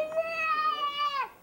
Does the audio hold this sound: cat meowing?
yes